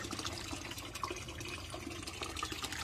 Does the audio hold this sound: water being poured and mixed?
yes